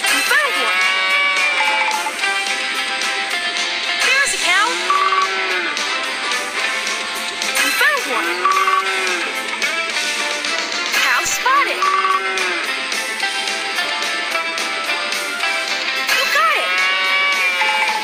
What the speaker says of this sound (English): Cow spotted.